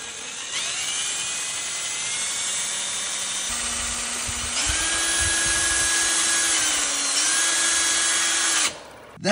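A power drill spins a basketball as melted sugar is poured on to spin cotton candy; a steady loud high-pitched whine runs throughout, stepping up in pitch a few times, then cutting off near the end.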